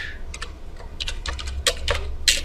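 Fingers tapping a computer keyboard, a short run of light, close clicking keystrokes in an irregular rhythm over a low hum.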